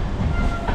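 Howrah–Dhanbad Black Diamond Express, an LHB-coach train, rolling along a station platform with a steady, loud low rumble and faint clickety-clack of wheels, no voices.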